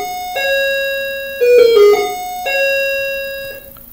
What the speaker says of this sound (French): Excuse-moi pour la cloche.